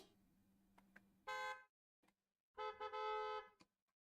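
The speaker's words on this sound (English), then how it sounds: "Even a horn." Two bright, harmonic car horn honks from a sound effect library, a short blast followed by a longer sustained one with a brief stutter, clear and isolated against near silence.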